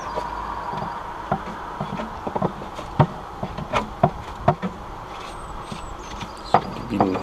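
Honeybees hum continuously at a hive during a lactic acid varroa mite treatment, with scattered close knocks and clicks from handling over the buzzing and no talk.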